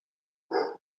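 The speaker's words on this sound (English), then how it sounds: "That's my neighbor dog, Aspen." A neighbor's dog gives a single short, sharp bark, close and loud against otherwise silent surroundings.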